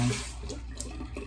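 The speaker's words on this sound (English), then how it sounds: "A little bit of water in my hand." Water runs briefly from a tap into a cupped hand during pre-shave preparation, with a soft, quiet splash.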